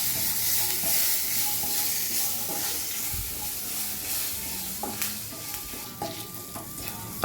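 Curry leaves frying in a pan for a snake gourd chutney, giving a steady sizzle and hiss with occasional stirring scrapes, close by and with no talking.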